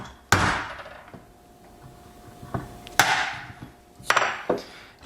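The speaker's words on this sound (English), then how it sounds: "I'm banging away on a countertop and it's tile and I have a hammer" Several sharp hammer strikes crack against a hard tiled surface, spaced irregularly with quiet gaps between, each ringing briefly and close by.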